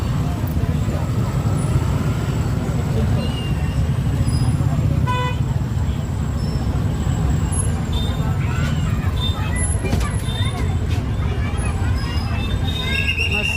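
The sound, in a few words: bus passing in heavy traffic at a vegetable market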